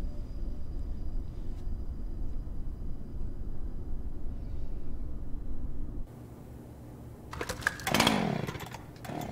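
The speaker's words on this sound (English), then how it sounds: "Are they, like, sawing it to pieces to prevent contamination?" In the video game Deadly Premonition 2, a saw cuts through something. A loud, harsh buzzing burst rises near the end, after a low, quiet ambient stretch.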